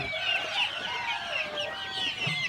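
Darag native chickens on a farm in Cebu cluck steadily in a close, busy chorus, with overlapping calls throughout and no talk.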